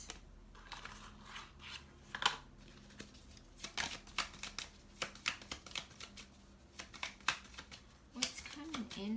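Tarot cards are handled and shuffled close by, a steady run of soft riffling flicks and taps over quiet room tone, with a brief murmur of voice near the end.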